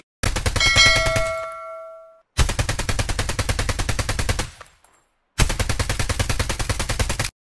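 Rapid automatic gunfire from a weapon in COD Mobile Battle Royale, three loud sustained bursts of tightly spaced shots separated by short silences, close and alone.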